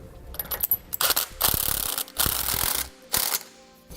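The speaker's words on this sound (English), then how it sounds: "We're going to be using an 18mm socket on the nut and a 16mm socket on the bolt." A socket wrench with 18mm and 16mm sockets ratchets nuts and bolts on a Roadmaster rear anti-sway bar on a 2017 Ford F-53. Several short bursts of close, sharp clicking come with brief pauses between.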